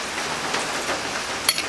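Steady rain falling on a surface, a dense even hiss with scattered drop taps, close and continuous, with one sharp click near the end.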